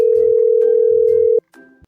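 Telephone ringback tone on a call: a steady electronic tone held for about a second and a half, then cut off as the call connects, followed by brief faint noise.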